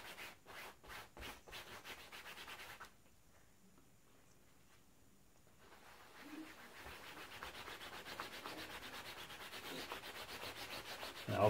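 Canola oil is rubbed by hand into a face paint stain on clothing, giving soft rhythmic scrubbing strokes, a few quick ones at first, then a pause, then faint continuous rubbing that grows slightly louder.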